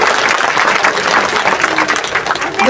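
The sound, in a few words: audience applause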